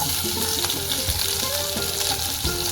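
Green chillies hit hot oil in a pan with a loud, steady sizzle and crackle, close up, with a few clinks of a utensil stirring through the continuous frying hiss.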